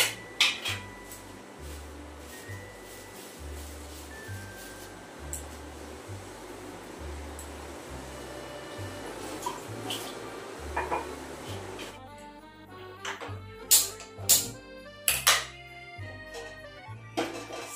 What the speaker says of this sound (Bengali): এই যে প্লেট প্লেট সব নিয়ে এসছে।